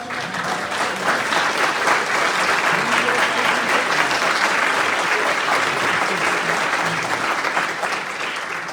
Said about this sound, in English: we want to give you a round of applause for being in the audience